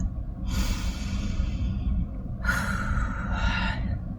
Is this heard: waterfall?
no